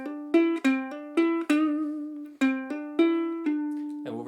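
Plucked ukulele notes in a short lick, ending on a D held with vibrato, played close and clear with no other sounds.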